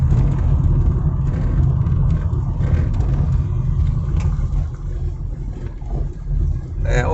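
Car interior at a steady 20 mph in third gear, a low, continuous engine rumble and road noise holding steady throughout, with a brief shift in tone near the end.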